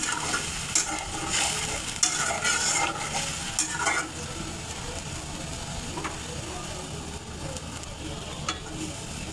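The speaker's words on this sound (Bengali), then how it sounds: "সেদ্ধ করে রাখা জলপাইগুলো ঢেলে দিলাম, এখন হালকা নেড়ে দেবো।" A spoon stirs boiled olives in a pan for a sour olive dish, giving soft scraping and wet bubbling with a gentle sizzle, continuous and close.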